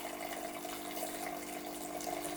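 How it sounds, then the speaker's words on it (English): A coffee maker's steam wand runs a continuous stream of water during a descaling cycle, giving a steady, even hiss and gurgle with a faint tonal hum underneath. "The steam wand will then dispense water continuously for 60 seconds."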